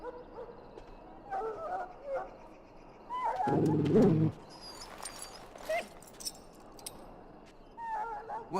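A dog in the video game Dragon Age Origins whimpers and gives a loud bark amid game ambience with bird chirps and faint voices.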